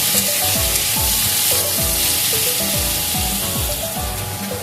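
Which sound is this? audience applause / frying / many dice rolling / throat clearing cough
frying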